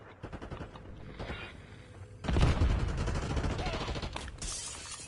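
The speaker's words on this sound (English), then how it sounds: "What are you shooting at?" Call of Duty gunfire: quiet rapid shots crackle at first, then a louder burst of automatic fire erupts and rattles on, with some faint distant bangs mixed in.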